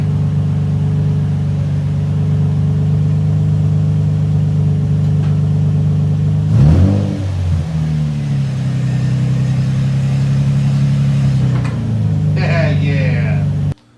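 Nissan 350Z engine idling steadily, then revved in a couple of surges, loud and close, with people talking over it.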